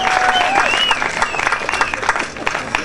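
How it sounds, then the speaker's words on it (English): A crowd at a street parade's float awards, Nimbin MardiGrass, breaks into sustained applause and cheering, with a voice over a loudspeaker and whistles rising above the dense clapping. "let's see that crowd applause for that one"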